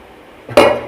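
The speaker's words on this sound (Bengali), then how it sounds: "আমি এবার ঢাকনাটা খুলে নিচ্ছি।" A metal lid comes off a pot of steamed bhapa pitha with a single sharp clank and a short ringing tone that fades quickly after a quiet moment.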